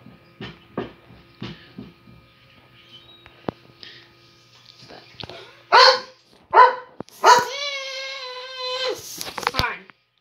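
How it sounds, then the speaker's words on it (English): A dog barks repeatedly in a Minecraft session, sharp separate barks at first, then louder closer barks and a drawn-out whine or howl near the end, with people talking around them. "if you hear a dog barking"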